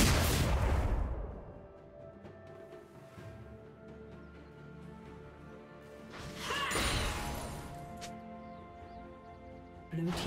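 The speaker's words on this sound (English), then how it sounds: "Blue team's turret has been destroyed" League of Legends turret destruction: a loud crashing burst at the start, then a quieter game backdrop before another swelling impact around the middle and a final thump.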